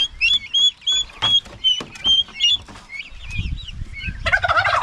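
Turkeys on a farm gobble in a series of loud, close, rapid bursts, followed by a softer rustling and clucking at the end.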